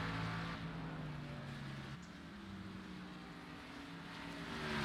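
A race car circling Mid-Ohio in an iRacing replay, engine droning steadily with a sustained pitch that shifts as it heads into a corner, fairly loud and continuous throughout.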